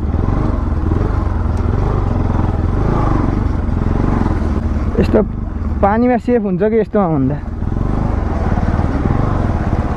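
A motorcycle rides an off-road jungle track in Baglung, Nepal, its engine droning steadily and close. Partway through it revs in rising, wavering pulses. People talk over the noise.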